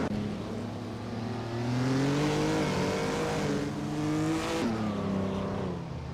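Engine of a 1956 Aston Martin DBR1 race car in a racing video game, a steady loud drone rising and falling in pitch as it accelerates and shifts, with a brief gear-change dip near the end, no talking.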